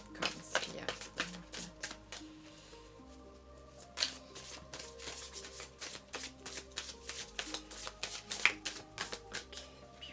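Tarot cards being shuffled for a reading: a continuous run of quick, crisp riffling and slapping, close and moderately loud, going on throughout over a soft, steady musical backdrop.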